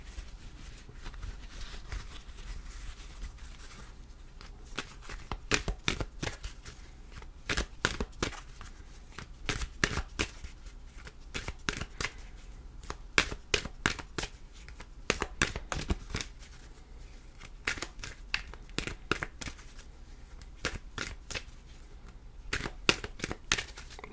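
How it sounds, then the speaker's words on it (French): Tarot cards are shuffled close up in a quiet room, with repeated soft riffling bursts and flicks that come in uneven clusters over a near-silent background. "Donc je mélange les cartes."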